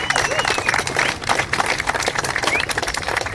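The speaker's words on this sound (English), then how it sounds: "Round of applause." Crowd clapping outdoors at a skatepark opening and ribbon-cutting ceremony in Camp Washington, Cincinnati, a busy, close patter of hands with some cheering and voices mixed in.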